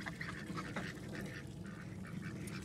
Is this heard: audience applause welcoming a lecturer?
no